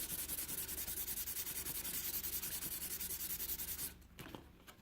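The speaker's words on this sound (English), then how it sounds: "you just kind of give each side just a light sand, make it feel nice to the touch" Light hand sanding of a wooden piece: steady, rhythmic back-and-forth rubbing strokes, close and even, stopping abruptly near the end with a few faint scuffs.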